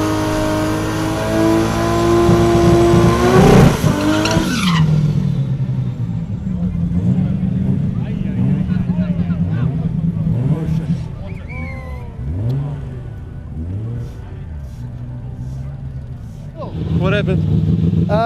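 A tuned drag race car engine at a raceway revs loudly near the start, rising to a peak and then settling into a rough idle, with someone talking over it for much of the time.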